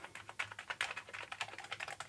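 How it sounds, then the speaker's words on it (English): Keys on an Amiga 500 keyboard are pressed one after another, a quick run of close, crisp clicks in steady rhythm. "I'm going to try to press each of the keys."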